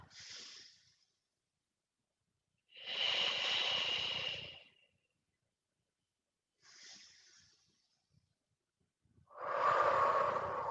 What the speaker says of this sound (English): So I want you to keep that breathing going